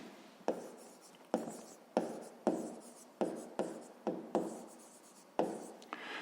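An answer to a fifth-grade maths exercise written by hand: pen strokes scratching on paper in about ten evenly spaced strokes, close and clear with no talk.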